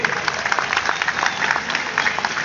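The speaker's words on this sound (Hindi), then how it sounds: "एक बार उनके सम्मान में आप तालियां बजाइए।" An audience at a Hindi comic poetry gathering in Raipur, Chhattisgarh, applauds in honour of a poet, many hands clapping in a lively, slightly uneven patter with distinct individual claps standing out near the listener.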